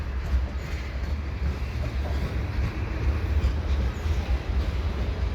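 A mixed freight train, including lumber loads and hauled by two back-to-back SD70M-2 locomotives, rumbles steadily past under the Dorval ramp with a continuous low roar and wheel noise.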